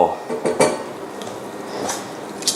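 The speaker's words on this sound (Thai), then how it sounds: "ลงไปคลุกเคล้าเลยคุณผู้ชม" Black squid-ink fettuccine is tossed in a pan with chuchi curry sauce made with coconut milk and fried shallots; metal utensils clatter and scrape against the pan in a few sharp bursts, then come softer stirring sounds.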